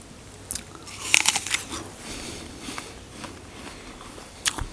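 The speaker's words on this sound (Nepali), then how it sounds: "न म अब माइक नजिक राखेर टोक्छु" An apple is bitten close to a lavalier microphone, giving a few sharp, crisp crunches clustered together and then a final bite, separated by quieter moist chewing.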